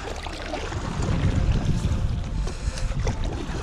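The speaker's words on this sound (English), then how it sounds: "then we're going to paddle fast and see how this thing can go here" Paddle strokes and water splashing from a SereneLife Free Flow paddle board pushed fast across open water, a steady churning wash with wind buffeting the microphone throughout.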